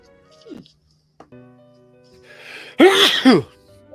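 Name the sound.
sneeze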